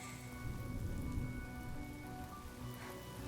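Steady rain patters on surfaces in the video game Honkai Star Rail, a dense, even wash of drops with no thunder or voices.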